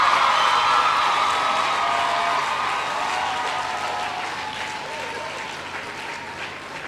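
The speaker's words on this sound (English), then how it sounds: "give them a huge round of applause" An audience at a University of the West Indies graduation ceremony applauds in a large hall, with dense sustained clapping that slowly fades.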